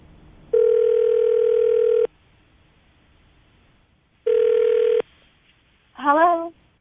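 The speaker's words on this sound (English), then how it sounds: "I'm going to dial the number right now" A steady telephone dial tone sounds twice with a pause between, followed by a short burst of rapid dialing tones.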